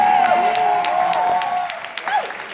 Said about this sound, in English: Give yourselves a round of applause for still being here.